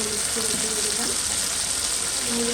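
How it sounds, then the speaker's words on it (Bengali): Ginger and garlic fry in hot oil in a pan, giving a constant, even sizzling hiss close up, with a faint voice underneath. "অনেকটা ভাজা ভাজা হয়ে আসছে"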